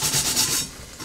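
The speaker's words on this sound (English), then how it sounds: "steel wool scrubber" Steel wool scrubber rubbing soot from wood, charcoal and propane use off the outside of a secondhand metal coffee pot, a close, steady rasping scrub in quick strokes that fades softer near the end.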